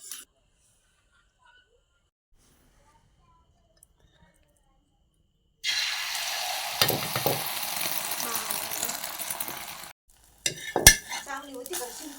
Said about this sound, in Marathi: आता ऑमलेट बनवते मला खायला आता हे मिक्स झालं आता त्या टाकून देते